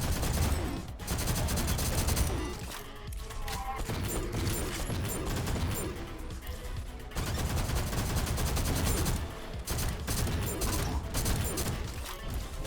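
Sustained rapid assault rifle fire in the GTTOD video game, dense and loud, running almost without pause, with brief breaks and mechanical clatter between bursts.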